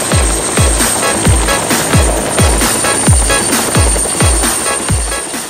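A small toy helicopter's rotor whirs loudly and close, with a steady high whine and regular rhythmic thumps from the spinning blades.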